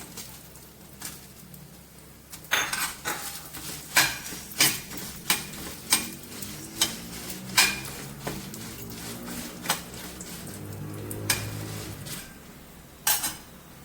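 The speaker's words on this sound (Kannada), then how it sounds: "ಅದಾದ ನಂತರ ನಾವು ಬೌಲ್ ತೆಗೆದಿಟ್ಟಂಥ ಮೆಣಸನ್ನು ಹಾಕ್ತಾ ಇದ್ದೀನಿ" Black pepper roasting in a pan and stirred with a metal spoon, a run of regular sharp scraping clinks spread over several seconds, with light crackling underneath.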